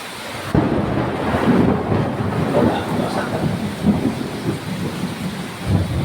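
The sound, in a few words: thunder during a storm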